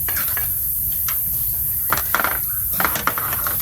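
Metal utensils clink and scrape against a pot as food is scooped up, likely a Thai shellfish soup, in a few close, sharp taps and scrapes over a low room hum with no speech.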